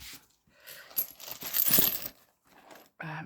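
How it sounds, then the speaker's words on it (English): Hand-forged metal runes clink and jingle together as they are handled, a close cluster of bright metallic rattles in short bursts with brief pauses. "Again, we're using my hand forged runes."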